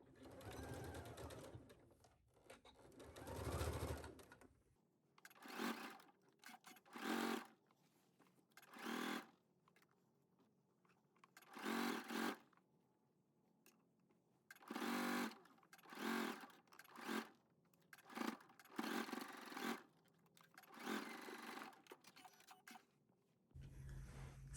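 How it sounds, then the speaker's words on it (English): Sewing machine stitching a fabric seam at 5/8 inch, in repeated short bursts of quick mechanical whirring separated by quiet pauses, close and faint. "I'm going to pick this up and continue sewing on the other side"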